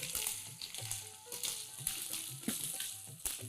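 Mustard seeds, cumin and sesame crackle and pop in hot oil as handvo batter is poured in, a faint continuous sizzle with scattered sharp pops and no talking.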